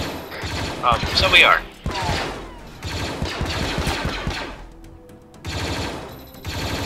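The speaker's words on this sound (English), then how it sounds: "Now they're shooting droids on the assembly line." Bursts of rapid automatic fire rattle in a Star Wars-themed Arma 3 fight on Geonosis as droids are shot on an assembly line, loud close volleys separated by short gaps, with players talking briefly.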